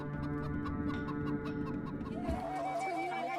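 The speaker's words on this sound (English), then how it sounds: "That's right, the common chicken." A common chicken clucks in a quick, rhythmic run of short calls, close and clear, before the clucking gives way to a steady tonal hum.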